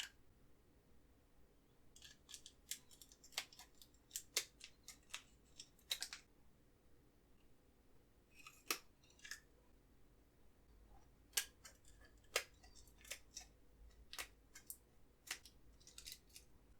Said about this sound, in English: Now trim the pieces of tape to 1 centimeter.